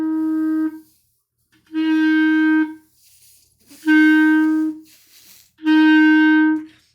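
Four sustained clarinet notes in the low-middle register, each with a muddy, thudding onset from an overly bunched tongue before the tone focuses, played alone with short gaps between them.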